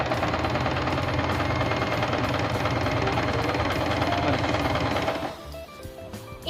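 Usha Janome Wonder sewing machine stitching cloth, with a loud, rapid, rattling needle drive running steadily up close for about five seconds before it stops and leaves a quieter mechanical tail.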